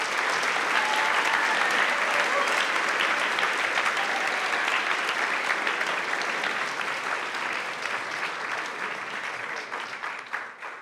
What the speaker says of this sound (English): would you join me in a round of applause for the volunteers who've been working the past 3 months?